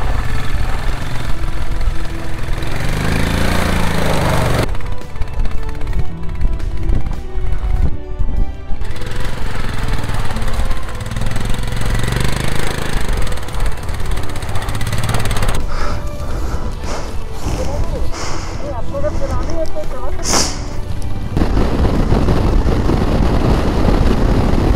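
Motorbike engines in Leh, Ladakh, roaring loudly and continuously at close range, the rough mechanical noise shifting in texture over about 25 seconds with no talk.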